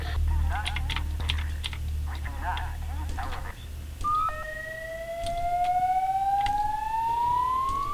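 Police car siren in the horror video game Dead Faces, a rising wailing tone that sweeps upward and holds for the second half, following tapping and clicks while people talk excitedly.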